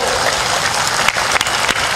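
A crowd at a religious sermon keeps clapping in a dense, continuous wash of applause, a few sharper claps standing out near the end.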